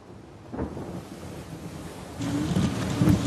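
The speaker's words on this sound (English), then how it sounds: "Okay, again, you see the storm." Thunderstorm in the video game Uncharted 4, with rumbling thunder and a steady wash of rain and wind building louder toward the end, plus a brief tonal game sound near the close.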